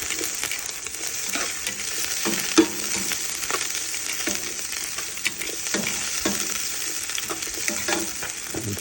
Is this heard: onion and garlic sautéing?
yes